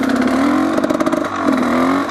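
A motorcycle engine drones loud and close while riding in third gear, shifting straight into fourth, with a steady throbbing note, a brief dip and recovery mid-way, and a faint clatter underneath.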